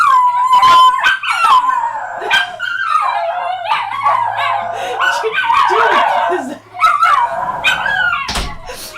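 Several pet dogs howl loudly and continuously close by, answering neighbourhood dogs with long wavering howls, yips and whimpers that overlap, plus a brief sharp noise near the end.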